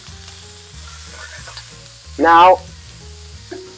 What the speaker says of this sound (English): Beef is going in. That's a good sizzle.